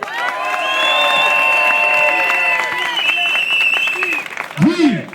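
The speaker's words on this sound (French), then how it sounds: "Applaudissez-le!" A crowd at a Paris rally for Syria applauds and cheers for a speaker, a steady loud roar of clapping with sustained voices and whistle-like tones on top, then a brief shout near the end.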